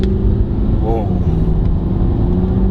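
A 2016 Porsche Cayenne S with a V8 diesel pulls away from a junction, its engine droning low and steady under road noise while a voice gives a brief exclamation.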